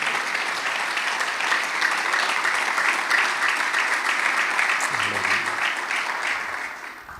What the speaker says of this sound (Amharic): እስቲ አጨብጭቡ ለእግዚአብሔር ክብር።